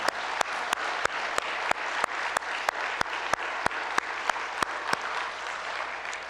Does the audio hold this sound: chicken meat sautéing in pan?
no